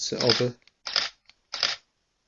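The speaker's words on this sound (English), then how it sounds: "I'm hoping you're able to hear the shutter" Three crisp mechanical clicks from a Nikon D3200 DSLR camera shutter, evenly spaced and close by, in otherwise near silence.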